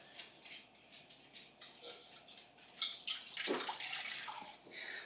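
Kombucha is poured into a container, starting with soft drips and splashes before a steadier, louder liquid stream takes over near the microphone.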